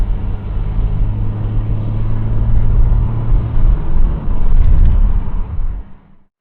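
Triumph 2500 automatic saloon driving on a New Zealand road, a steady loud low engine rumble from inside the car that swells as it pulls, then cuts off abruptly at the end, no talk.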